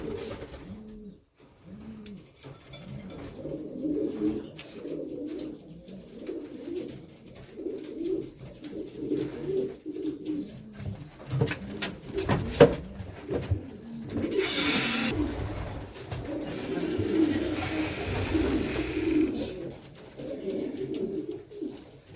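Racing pigeons in a loft coo steadily, soft rolling throaty calls repeating close by throughout, with someone speaking at moments and occasional rustling and clatter.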